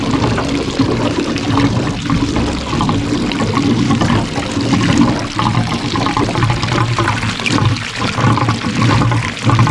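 Water drains out of the fuel tank of a 1959 Mercedes-Benz 220S W180 Ponton sedan, making a loud, continuous gurgling and splashing pour that is close and steady for nearly ten seconds, with no talking.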